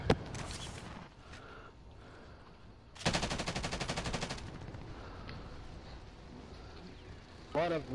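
A loud, rapid burst of automatic gunfire rattles for about a second and a half in a PS4 shooter game, with quieter game sounds and scattered noises before and after it.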